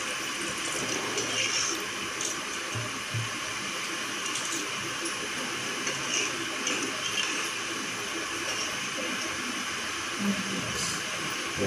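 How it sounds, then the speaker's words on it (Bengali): Water is poured into a cooking pot while preparing a prawn and taro-stem curry, a steady continuous splashing hiss with little change across the whole stretch. "পরিমাণ মতো জল দিয়ে দিতে হবে"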